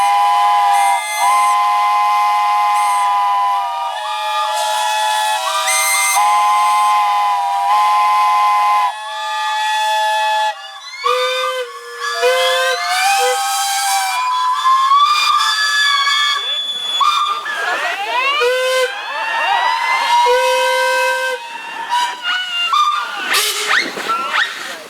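Many steam whistles blow at once at the Marston Steam & Vintage Show 2025 arena, loud, close, overlapping shrieks and wails with hissing steam, rising and falling for the whole stretch.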